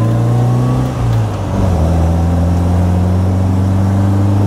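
A car accelerates hard on an open road, its engine note loud and close, sweeping upward in pitch with a brief gear-change dip before a sustained pull, recorded from inside with a GoPro Hero 8 and RØDE wireless mic.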